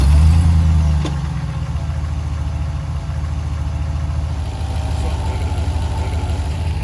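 A Hellcat-swapped Jeep Gladiator V8 fires up with a loud, deep burst, then drops into a steady, rumbling idle close by with no talking.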